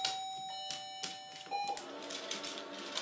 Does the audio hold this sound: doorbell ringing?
yes